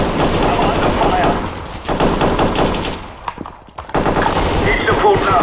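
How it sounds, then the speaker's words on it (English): Automatic gunfire in a video game rattles loudly in dense, rapid bursts, easing into a brief lull around the middle before the shooting resumes at full intensity. "Grenade out. Under fire here."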